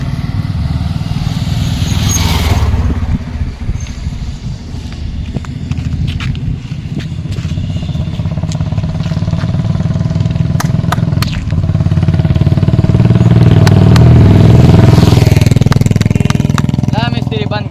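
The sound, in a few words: motorcycle engine running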